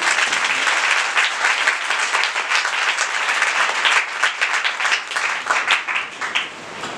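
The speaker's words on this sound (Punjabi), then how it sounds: "ਜੋਰਦਾਰ ਤਾਲੀ ਸ਼ੁਕਰੀ।" A church congregation at a Resurrection Day service bursts into loud, sustained applause, many hands clapping together before the sound gradually thins out.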